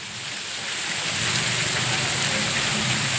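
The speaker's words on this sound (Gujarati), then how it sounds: "અને કન્ટિન્યુ ચાલુ જ છે વરસાદ" Heavy evening rain pours down steadily during a thunderstorm, a dense, continuous close-up roar of drops hitting surfaces that grows slightly louder and never lets up.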